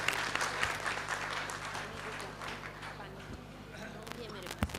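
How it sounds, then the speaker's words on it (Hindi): Audience clapping at an Agrasen Jayanti 2023 gathering, a steady wash of hands beneath a constant electrical hum, with a voice talking over it throughout. "जोरदार तालियां"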